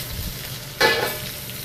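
Sugar hits hot rendered pork fat in a wok, setting off a sudden bright sizzle that swells and then settles into a steady frying hiss. The sound is close and loud, with no talking.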